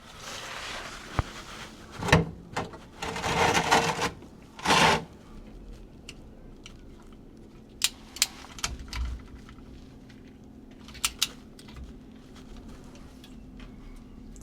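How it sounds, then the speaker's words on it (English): A torque wrench works on the rear differential of a Mercedes W126, giving close ratcheting rasps and clicks in short bursts, then scattered sharp ticks against a quiet background. "So I got my torque wrench here."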